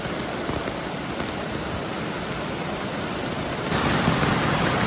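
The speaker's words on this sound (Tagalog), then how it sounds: "grabe ang lakas ng ulan" Heavy rain pours down in a dense, steady hiss that swells even louder near the end, with no talking.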